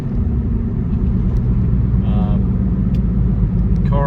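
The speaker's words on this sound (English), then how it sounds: "Getting a little tire noise." Tire noise and road rumble come from a 1993 Porsche 964 Carrera Cabriolet on old, outdated tires with aggressive tread blocks, a loud continuous low drone heard from inside the car, with brief faint higher sounds now and then.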